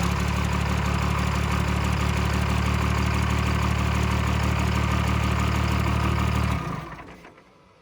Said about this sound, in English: It's our fire-ringed engine.